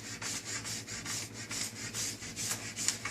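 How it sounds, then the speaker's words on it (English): A ski scraper works glide wax off a cross-country ski in short, quick strokes, a soft rhythmic rasping scrape repeating about every third of a second, close and fairly quiet. "I've found that I scrape the ski itself a little bit less if I do shorter strokes"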